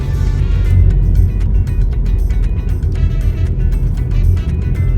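A car drives through Kenilworth, heard from inside as a loud, steady low road rumble and engine drone with no break.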